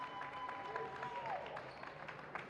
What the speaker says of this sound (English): Reese Brinkler, Molly Mannion will get a nice round of applause from their bench